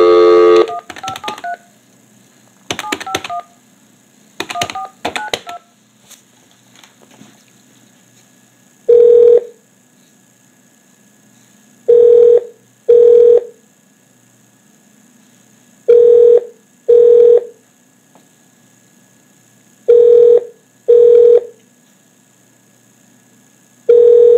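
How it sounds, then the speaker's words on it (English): A phone dials a number with a quick burst of touch-tone beeps, then the line rings in evenly spaced paired tones repeating several times, loud and clear with silence between. "let's call Senator Paul Wieland"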